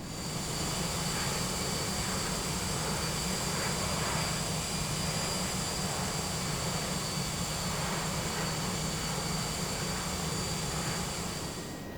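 A Just Flight DC-8 jet taxis in Flight Simulator X, its engines a steady, loud, unbroken whine and roar with a constant hiss that continues throughout, with no speech.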